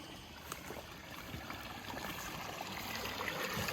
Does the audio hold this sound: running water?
yes